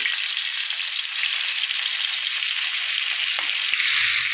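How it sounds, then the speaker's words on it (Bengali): Hilsa fish frying in hot oil, a loud, bright, continuous sizzle close up with a brief clink near the end. "মাছগুলো দিয়ে দিলাম, এবার ভালোভাবে ভেজে নেব"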